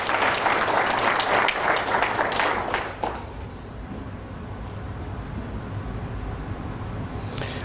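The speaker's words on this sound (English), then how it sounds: "Can we clap for ourselves?" Party guests at a company end-of-year celebration clap loudly for about three seconds, then the applause stops abruptly, leaving a low room hum.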